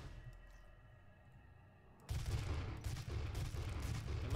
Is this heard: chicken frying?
no